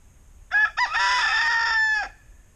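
A free-roaming rooster crows once, loud and close, a short opening note followed by a long sustained call lasting about a second and a half against a quiet background.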